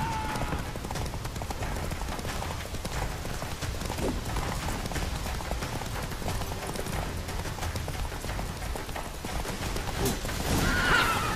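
A horse gallops with steady, continuous hoofbeats in The Witcher III, set in Skellige, and neighs near the end, with game ambience underneath.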